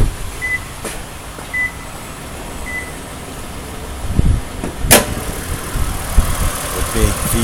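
Toyota Alphard 3.5Z G-Edition, 2010 series 20, its big 3.5-liter V6 idling steadily in the open engine bay, a low even hum with a few short beeps and clunks over it.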